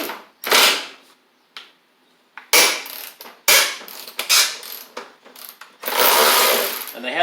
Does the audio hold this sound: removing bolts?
yes